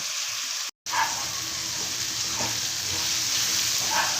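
Onions, tomatoes and spices frying in a pan for a Rayalaseema-style fish curry, a steady bright sizzle with light stirring scrapes, close and continuous after a brief cut near the start.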